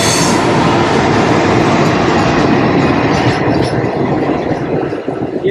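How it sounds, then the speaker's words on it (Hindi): A Vande Bharat train roars past alongside the Pushpak Express on the Lucknow–Mumbai line in India, a loud, continuous rush of wheels and rail noise with faint clatter, heard close from the other train. "ये वंदे भारत ओवरटेक करते हुए हमारी पुष्पक एक्सप्रेस को"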